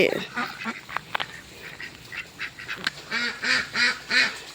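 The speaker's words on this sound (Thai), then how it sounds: "เลี้ยงเป็ดด้วย" Ducks on a mixed farm with a watermelon garden quack repeatedly, scattered calls at first, then a rhythmic run of close quacks toward the end.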